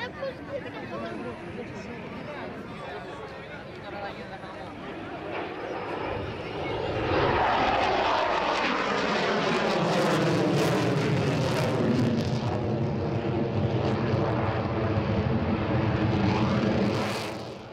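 Military aircraft making a final salute pass over the crowd at the Athens Flying Week 2015 air show, a distant engine roar that swells into a loud, sweeping jet rush with a falling pitch before easing off.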